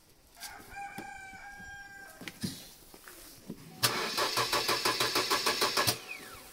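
A car engine cranks and catches after several days parked unused, following a rooster-like squeal and a few knocks; the starter whirrs in a rapid, pulsing burst near the microphone, loud and clear, with no talking.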